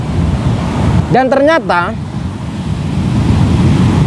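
Ocean surf rumbling onto a beach on Indonesia's south coast, a continuous roar mixed with wind buffeting the microphone, with a brief spoken voice cutting in partway through.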